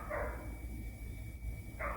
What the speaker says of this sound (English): them dogs is yapping.